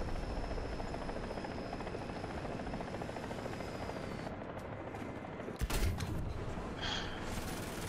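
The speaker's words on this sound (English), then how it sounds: "Another helicopter coming." Helicopter rotor drone and engine whine from the combat video game War Thunder, a steady loud hum that persists throughout, with a brief burst of clattering or gunfire near the end.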